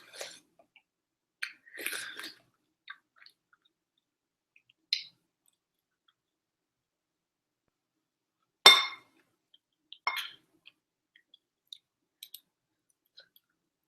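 Chicken, vegetable and rice soup being eaten up close, with sparse spoon clinks against a bowl and soft chewing separated by long quiet gaps.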